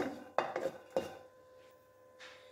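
Pistachios being dry-roasted in a pan and stirred, giving a few sharp metallic clinks and scrapes of a utensil against the pan followed by softer rattling, quiet and close with no talk.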